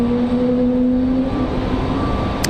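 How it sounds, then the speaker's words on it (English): A JetBlue Airbus A220 jet taxis at Raleigh-Durham airport, a loud, continuous engine whine with steady tonal hum and broad rushing noise, heard close and unbroken with no voices. "we do, in fact, have a JetBlue A220 on the move"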